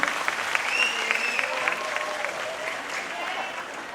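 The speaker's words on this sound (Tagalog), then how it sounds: "Lalo pag pumalakpak ang mga taga-Cabuyao. Palakpak naman po dyan." Crowd applause at a Mr. & Ms. Cabuyao 2017 pageant coronation night, a full, continuous roar of clapping that stays steady and loud from start to finish, with a faint tone and voices mixed in.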